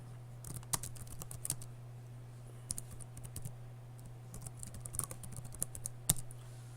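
Typing on a computer keyboard to enter a SQL statement, with irregular bursts of crisp clicking keystrokes over a steady low hum, fairly faint and with no talking.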